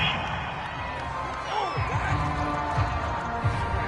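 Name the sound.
home crowd cheering a call in the video game Madden 22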